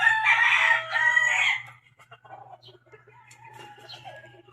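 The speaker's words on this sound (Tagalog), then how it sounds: "Amo na yung manok namo nga ihalas." A wild rooster crows loudly and close for over a second, followed by quieter clucking and faint chirps against a low steady hum.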